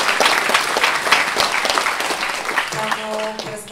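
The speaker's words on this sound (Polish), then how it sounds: "Prosimy o piękne brawa." Audience applause at a concert, dense and steady clapping from a crowd filling the whole stretch, with a brief sustained musical tone entering near the end.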